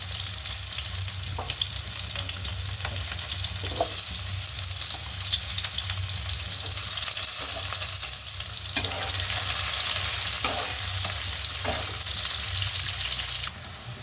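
Chopped onions frying in oil with whole cumin, cardamom, cinnamon and cloves for a chicken and potato curry, a steady loud sizzle with occasional stirring clinks, no voices.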